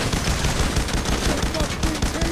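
Dense, continuous gunfire in the heist shooter Payday: The Heist, loud overlapping shots and rapid bursts packed together throughout, with some chatter mixed into the battle noise.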